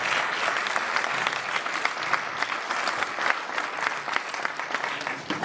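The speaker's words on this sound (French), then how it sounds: "vous allez devoir, n'est-ce pas, applaudir pour elle avant que je ne vous la présente" Audience members at a professional consultant training session clap in a lively, steady round of applause that continues evenly throughout, fairly close and full.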